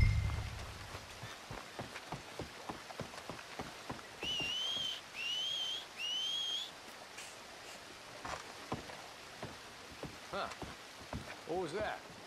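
Red Dead Redemption 2 whistling: three clear rising-and-falling whistles sound in a row near the middle, over soft rain and scattered footsteps, with a brief fainter whistle-like call near the end.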